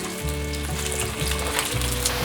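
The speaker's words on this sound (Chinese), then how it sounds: "油已经热了，把芋头放进来，半煎炸的方式" Taro pieces shallow-fry in a generous amount of hot oil over medium heat, producing a dense, continuous close-up sizzle with a low steady hum underneath and no voices.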